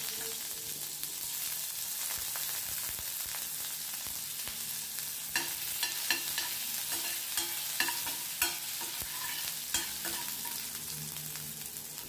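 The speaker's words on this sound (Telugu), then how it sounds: "నూనె వేడెక్కిన తర్వాత సన్నగా తరిగిన వెల్లుల్లి ముక్కల్ని ఒక స్పూను, సన్నగా తరిగిన అల్లం ముక్కల్ని ఒక స్పూను ఒక 2 నిమిషాల సేపు వేయించుకోవాలి" Finely chopped garlic and ginger fry in hot oil in a kadai with an even, close sizzle. A run of sharp spoon clicks and scrapes marks stirring in the second half.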